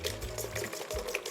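Cooking oil poured into a bowl of eggs and sugar while mixing a quick pan-cooked cake batter, a steady liquid trickle lasting just over a second, close and fairly quiet with no talk.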